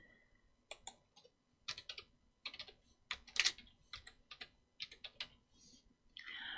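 Someone types on a computer keyboard, with quiet clicking keystrokes in short irregular bursts and no talk over them.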